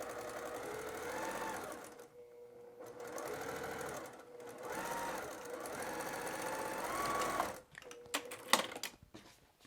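A sewing machine stitches a fabric candy bag with creepy appliqué, running in several steady bursts separated by short pauses, then a few sharp clicks and shorter runs near the end, close and clear.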